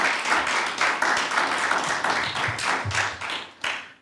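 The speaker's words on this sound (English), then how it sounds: "Let's give Christ a hand clap of praise." Congregation at a Sunday Baptist worship service clapping hands in praise, with a loud, dense stream of claps in uneven bursts that fades out near the end.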